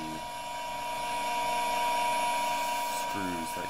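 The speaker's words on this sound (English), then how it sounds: "if you have a drill, I'd tape off the drill bit and just use a hand drill" A drill bores holes for ski binding screws on homemade skis, the bit taped off to limit depth. A steady, close, high whine runs for about three seconds before stopping, with talking around it.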